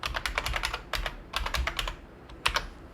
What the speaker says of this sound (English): by just going to CMD and typing comp